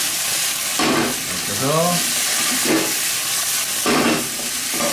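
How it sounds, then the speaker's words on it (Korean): Vegetables stir-fry with soy sauce in a hot pan, giving a crackling sizzle with brief scraping surges as they are tossed. A person talks over the cooking at close range. "이렇게 살살살 볶아서 간장 향이 야채에 좀 배길 수 있도록 그렇게 해주시면 됩니다"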